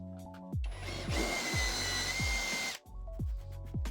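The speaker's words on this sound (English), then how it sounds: "Now we do some pre-drilling so we don't split the wood during assembly." Power drill pre-drilling wood for a wooden cat scratching post, a loud steady whine lasting about two seconds between short tapping knocks, close and alone without talk.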